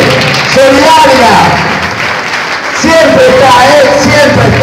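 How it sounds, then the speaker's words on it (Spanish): Audience applause at a lively Spanish-language show, loud and continuous throughout, with a host's voice and music-like tones sitting over the clapping. "Fuerte el aplauso para Brisa"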